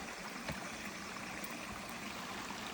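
Water splashes and trickles steadily from a backyard water tower feature driven by a pump, a constant close rushing with no voices.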